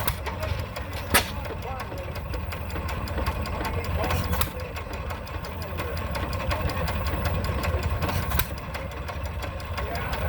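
A single-cylinder stationary engine runs steadily with a low, even chugging rumble, a few sharp knocks cutting through, close and continuous, at a threshing show.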